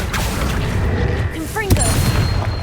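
A Confringo blasting curse goes off in the Hogwarts Legacy video game, a sharp, loud burst near the end over a dense, constant rumble of battle noise, with a voice briefly heard.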